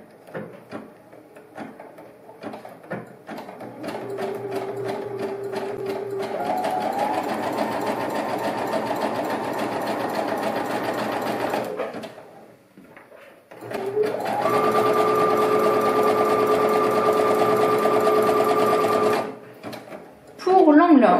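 A sewing machine stitches a fabric child's face mask in two long steady runs of rapid mechanical whirring, separated by a short pause, with a person talking over it between and during the bursts.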